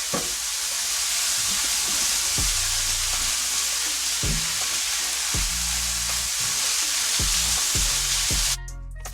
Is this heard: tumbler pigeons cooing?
no